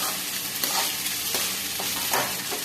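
Aloo matar samosa filling of potatoes and peas roasts in a pan, a constant sizzle broken by several scraping stirs of a spoon, heard up close with no talking.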